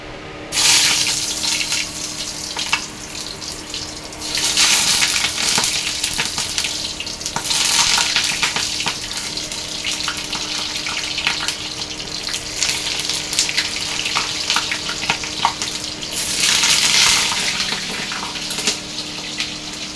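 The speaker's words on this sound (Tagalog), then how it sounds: "Prito na po tayo ng talong." Eggplant frying in hot oil, a steady broad sizzle with crackling bursts that swell and ease over time, with no talking.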